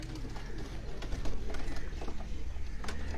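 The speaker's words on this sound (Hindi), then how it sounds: "ये मैं आपको मियां साहब वाले कबूतर, ये मियां नजीर साहब वाले" Pigeons coo softly and repeatedly at close range, with low rolling calls overlapping against a busy background.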